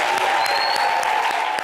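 Audience applause at an event in the Palais des Congrès of the Sofitel Abidjan, Côte d'Ivoire, a dense steady patter of clapping held at even loudness throughout, with a faint sustained tone running beneath it.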